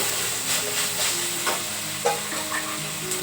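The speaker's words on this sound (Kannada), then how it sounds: "ಇವಾಗ ಇದನ್ನು ಚೆನ್ನಾಗಿ ಸ್ವಲ್ಪ ಫ್ರೈ ಮಾಡ್ಕೊತೀನಿ ಮಿಕ್ಸ್ ಮಾಡಿಕೊಂಡು" Soy sauce mixture frying and being stirred in a pan, a steady sizzle and hiss with scattered scraping stir strokes, close and moderately loud with no talking.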